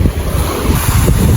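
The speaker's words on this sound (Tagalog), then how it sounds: "Malakas pa rin yung wave, pero sakto lang." Ocean waves at a beach in Zambales, a rough, close roar of surf mixed with heavy wind buffeting the microphone, continuous and loud with no voices.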